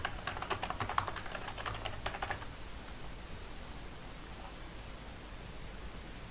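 Typing on a computer keyboard while filling in an online application form: a quick run of light key clicks in the first couple of seconds, then near silence with faint hiss and a few isolated taps.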